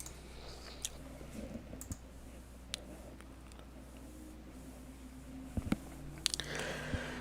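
Scattered computer mouse clicks during a webinar demo, sharp and sparse against a quiet hum, a few close together near the end.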